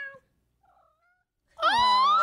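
A person imitates a cat's meow, producing a loud, drawn-out nasal mew that rises and wavers for about a second after a near-silent stretch with only faint murmurs.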